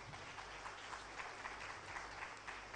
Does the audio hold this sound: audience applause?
yes